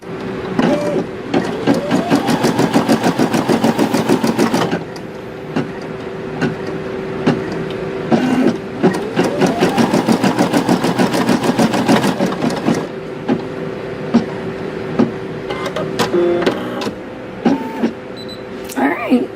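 A Brother SE 625 embroidery machine stitches in two long bursts of rapid, even needle chatter with a rising motor whine at the start of each, separated by pauses and softer mechanical clicks.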